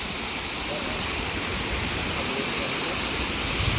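Steady, dense rush of water pouring down a jungle waterfall, loud and continuous with no break, a broad wash of noise filling the whole scene.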